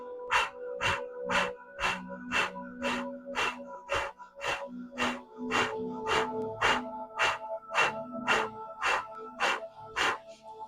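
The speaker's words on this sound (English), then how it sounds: "we're going to do that breathing exercise for 20" Rhythmic breathing exercise held in a yoga plank: about seventeen sharp, forceful nasal exhalations in a steady quick rhythm, close and fairly quiet, with no talk.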